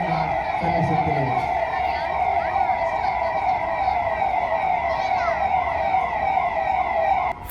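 Loud, continuous wailing sirens from fire engines sounding together as a celebratory salute at a medal ceremony, their rising and falling tones overlapping steadily from start to finish.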